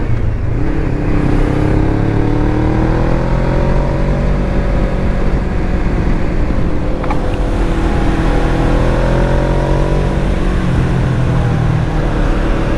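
A motorcycle engine revs loud and close, with pitch rising and falling through repeated throttle blips and a steady throbbing drone throughout; any popping on throttle release is not clearly picked out.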